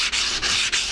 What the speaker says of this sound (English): I'm going to take a little piece of sandpaper, barely hold it in my fingers, and just swipe back and forth in there